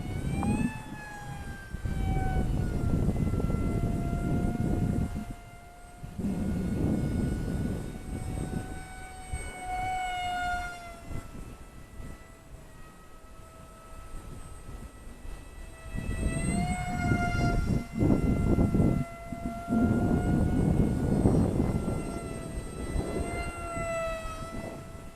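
A Glue & Fly F-22 Raptor micro RC jet whines steadily overhead, its tone rising and falling as it passes near and away, with wind rumble underneath.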